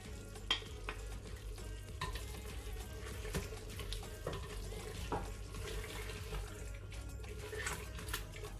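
Mutton korma with a paste of fried onion and almond is stir-fried in a pot: a quiet, steady sizzle broken by scattered scraping clicks from a spoon, with no one talking.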